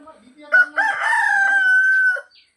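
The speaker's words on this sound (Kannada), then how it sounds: "ಇದು ಹುಂಜ." A rooster crows once, a loud drawn-out cock-a-doodle-doo close by, standing alone in a quiet farmyard with a cow nearby.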